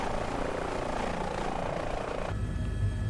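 A firefighting-variant helicopter in a flight simulator game whirs continuously, its rotor and engine noise steady and fairly quiet before the tone shifts abruptly near the end, with no voices.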